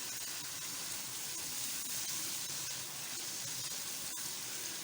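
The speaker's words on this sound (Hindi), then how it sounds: "ये देखिए कितना अच्छा मसाला भून गया है" Masala paste frying in a pan for sour arhar dal, a steady dense sizzle and hiss held at an even level throughout, close but soft, with no voices.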